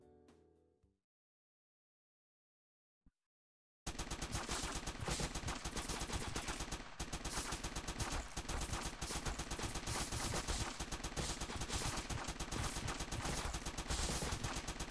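Sustained, dense automatic AK-47 fire in the top-down shooter Crimsonland, loud and continuous from about four seconds in after a short quiet stretch with a brief click.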